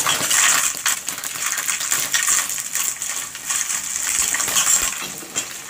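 Small mourola fish fry in plenty of hot oil in a pan, a loud steady sizzle broken by metallic clinks and scrapes as a utensil gently stirs them, with no talking.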